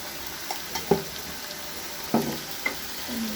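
Turmeric powder goes into a pan of frying egg, giving a soft, steady sizzle with a few sharp ticks and spatula scrapes close by, with no voices.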